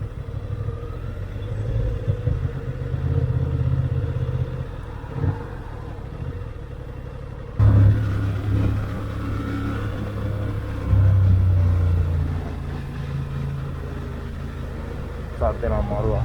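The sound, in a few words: Honda Hornet motorcycle engine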